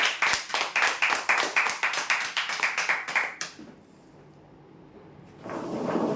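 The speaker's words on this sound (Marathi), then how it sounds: "हे विजेते आहेत तीन बाय सहा बेडसाठी जोरदार टाळ्या" An audience claps in a steady, rhythmic beat for prize winners at a weekly lucky-draw event. The close, sharp claps run for about three and a half seconds, stop into near silence, then give way to broad noise.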